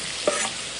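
Diced potatoes fry on high heat in a pan with a steady, close hiss of sizzling oil, plus one brief stirring scrape partway through.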